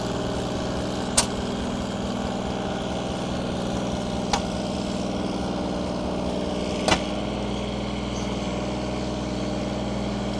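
A Ford 8N tractor's flathead engine with a Funk conversion and mistimed ignition runs roughly in a steady, close, low drone, broken by three sharp pops spaced a few seconds apart.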